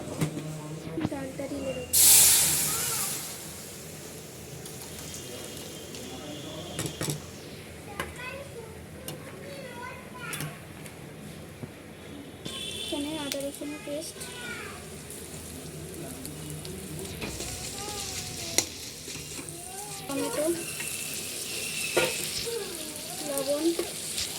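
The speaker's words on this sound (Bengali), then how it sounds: "ফোড়ন দিয়ে দিচ্ছি ফোড়ন একটু একটা শুকনো লঙ্কা আর একটা তেজপাতা" A tempering of one dry red chilli and one bay leaf sizzles in hot oil: a loud burst of hiss early on, then a continuous softer frying sizzle that runs under intermittent talking.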